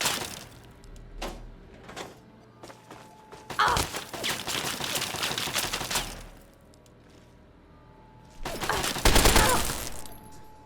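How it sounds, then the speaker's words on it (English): A turret in the video game Fallout 3 fires in two loud, noisy bursts, one lasting several seconds and a shorter one near the end, with quieter game ambience between them. "Oh shoot, there's a turret."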